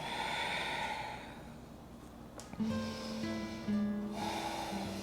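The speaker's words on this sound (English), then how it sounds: "Breathing in through the nose, breathing out through the nose." Slow yoga breathing through the nose, a long airy inhale-exhale wash in and out, close to the mic, with soft music tones entering underneath partway through.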